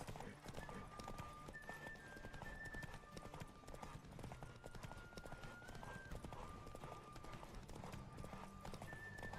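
Hooves thunder in a rapid, steady gallop during a horse race in The Witcher 3, near and loud, with a whinny and faint voices over the rhythm.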